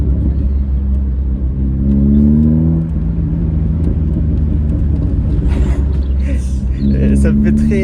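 A forty-year-old first-generation Honda Prelude's engine gives a steady, loud low rumble that swells slightly as if revving, running continuously beneath people talking nearby.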